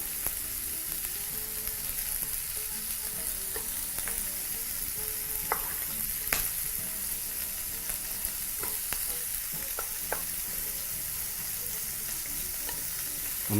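Beef browning in a hot pan gives a steady, even frying sizzle that holds at one level throughout, broken by occasional brief clicks and scrapes from stirring. No one talks.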